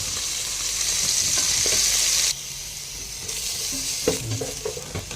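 Potatoes and meat frying in hot oil for chicken adobo, a loud, close, steady sizzle that eases slightly partway through, with a few light clinks of stirring near the end.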